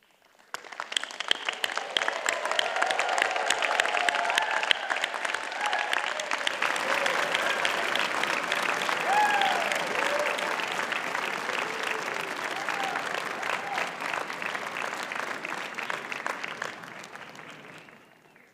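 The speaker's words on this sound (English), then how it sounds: "please stand up and give them the most enthusiastic cheer" A large graduation ceremony audience at a university doctoral commencement bursts into loud, sustained applause with cheering, a dense wash of clapping that swells, holds for about fifteen seconds and then fades out.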